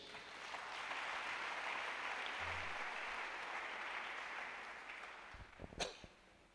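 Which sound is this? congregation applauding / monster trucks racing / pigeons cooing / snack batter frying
congregation applauding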